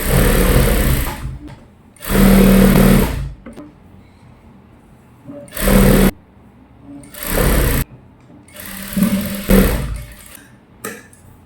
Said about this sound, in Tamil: இப்போ உள் பக்கத்துலேருந்து சுற்றி நம்ம ஒரு தையல் போட்டுக்கலாம்